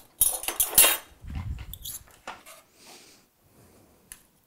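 Two spoons, one large and one small, scooping cupcake batter into molds with a few bright metallic clinks and scrapes, then softer thuds and dabs that fade to near silence, close by.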